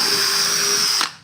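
A DeWalt power drill with a small bit bores through thick wood, whining loud and steady at close range for about a second before the motor cuts off and spins down.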